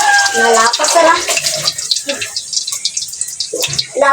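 Water spills over the brim of a filled container in a continuous rushing splash, with voices talking over it at the start before the flow carries on nearly alone.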